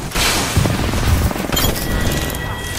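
Bangalore's thermite grenade bursting in Apex Legends, a loud close blast with crackling, sputtering fire and scattered gunfire carrying on for a few seconds.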